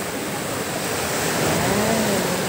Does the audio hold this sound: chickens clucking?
no